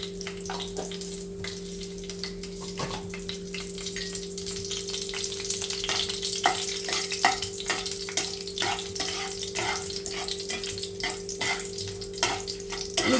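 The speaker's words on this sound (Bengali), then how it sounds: "জিরে আর তেজপাতা দিয়ে তরকারিটা ফোড়ন করে নিয়েছি" Cumin seeds and bay leaves crackle and fry in hot oil as tempering for a banana-stem curry with small shrimp. The sizzle is steady, close and moderately loud, with scattered sharp pops over a low electrical hum and no talking.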